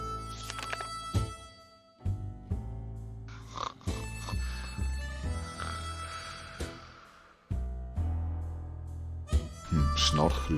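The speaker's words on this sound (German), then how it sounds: "hören da draussen unverkennbar ein Telefon, wo läutet" An old-style telephone rings out in the 60 Seconds! video game, heard in intermittent bursts among other game sounds and music.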